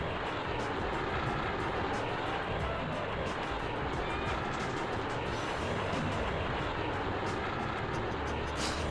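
A train passes in the Looney Tunes: Sheep Raider video game, heard as a steady low rumble and rolling clatter that holds at an even level for the whole clip.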